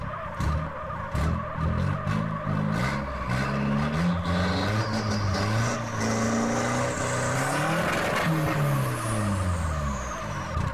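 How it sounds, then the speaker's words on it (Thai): In GTA San Andreas, a van does a tire burnout with a loud, sustained screech of spinning tires over a revving, wavering engine that rises and falls throughout, with no talking. "เป็นเสียงแบบตอนเบิร์นยางมันสมจริงมากเลยครับ"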